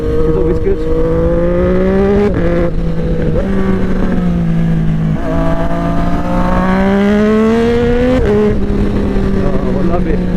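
A Triumph 765RS three-cylinder motorcycle with an SC Project exhaust is ridden on open roads, its engine droning close and loud with rising and falling revs and brief dips at quickshifter gear changes, under a rider's voice.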